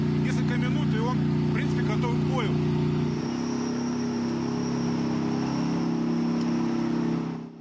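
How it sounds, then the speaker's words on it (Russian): A Ukrainian army tank's engine runs in freezing winter weather, a loud steady low rumble with strong harmonic drone that drops to a lower idle partway through, with speech heard briefly over it. "Двигатель этого танка завели быстро."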